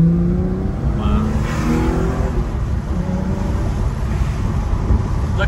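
A Singer Porsche's engine roars loud and close as it revs through manual gear shifts on a drive through the Malibu canyons, with steady wind noise layered over the engine.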